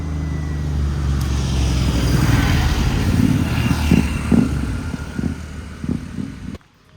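A twin-cylinder motorbike passes on a roadside, its engine drone building and swelling as it nears, then easing off before cutting out abruptly, with steady road and wind rumble beneath.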